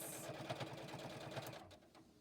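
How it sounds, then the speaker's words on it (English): A JUKI sewing machine runs a fast, steady stitch on a storage roll-up project, close and loud, with its rhythmic needle pulses slowing at the end of the seam as the stitch is locked. "And I'm coming right to the end. And I'm even locking that stitch."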